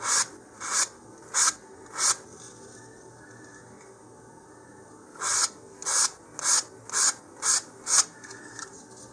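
Rhythmic rasping strokes of sanding on wood parts of an Estes Goblin model rocket, four quick passes, a pause, then six more, close and steady.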